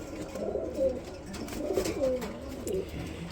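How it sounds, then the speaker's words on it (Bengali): A pair of Musaldom pigeons coos close by in low, rolling phrases repeated several times, over a faint background murmur with no clear speech. "এখানে দেখতে পাবেন আরেকটা জোড়া রয়েছে, এটা হচ্ছে মুসালদম কবুতর"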